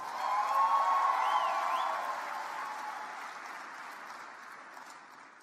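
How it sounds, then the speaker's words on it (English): Audience applause fills the hall at the opening ceremony of the YouthConnekt Africa Summit 2024, a steady broadband clatter that swells early and then slowly tapers off over several seconds. "A round of applause."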